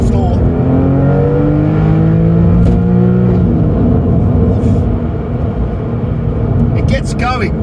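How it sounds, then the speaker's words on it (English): A Porsche 911 996 4S flat-six engine revs up strongly and climbs in pitch, a loud rising roar that fades slightly as a voice speaks over it. "let's just drop this down a gear and give it a good rev out"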